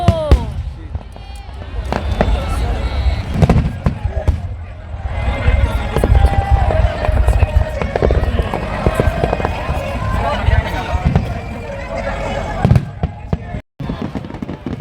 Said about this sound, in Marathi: एक सातशे मीटरपेक्षा लांब फटाक्यांची माळ असते ज्यामध्ये तेरा हजार ते पंधरा हजार फटाके असतात